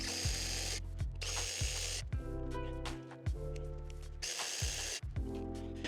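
Impact wrench hammering loose 10 mm water pump bolts on a GM truck engine (4.8, 5.3, 6.0 or 6.2 V8), several loud rattling bursts with short pauses between, close up, no talking.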